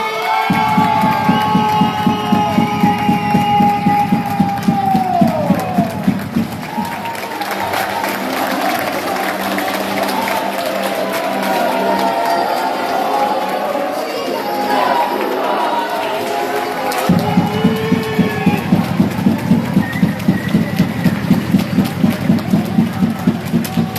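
Crowd applause and cheering for the Trentino youth basketball team at an under-14 boys' final, loud and sustained, with rhythmic clapping that dips for a stretch in the middle and then swells again.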